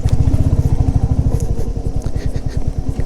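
A motorcycle rides over a rough, broken road, its engine loud and close with a fast pulsing throb and rattling clatter from the bumpy surface throughout.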